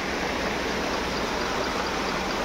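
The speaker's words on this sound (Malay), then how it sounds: "agak pasang dan juga arus deras" A strong river current flows steadily at high tide, its dense, unbroken rush of water loud and close throughout with no pauses.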